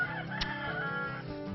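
A slow-growing Alsace chicken on a farm crows and clucks close by, with a steady, busy backdrop of other fowl and farmyard sound.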